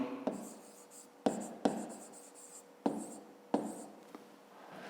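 A math solution for a fifth-grade exercise is written out by hand in several distinct scratchy strokes with short pauses between them, close and heard alone.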